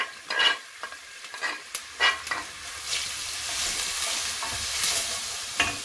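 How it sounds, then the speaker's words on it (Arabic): Falafel frying with onion in a pan, a steady soft sizzle broken by several sharp stirring scrapes and clatters, heard close and alone with no talk. "كيتقلى."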